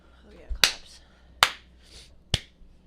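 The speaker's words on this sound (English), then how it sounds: "Oh, yeah, claps." Three sharp hand claps, evenly spaced about a second apart, each crisp and close, with faint murmuring between them.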